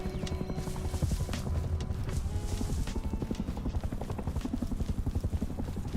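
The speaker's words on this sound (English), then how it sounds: "I hear the helicopter." Helicopter in the video game Rust: a steady, fast rotor chop thrumming continuously at moderate distance, holding even in level throughout with faint game background beneath.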